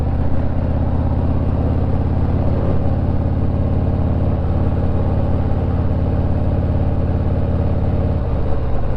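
A technician's motor vehicle out on a test ride on a chilly, overcast day, its steady engine drone close and loud throughout, with no talking.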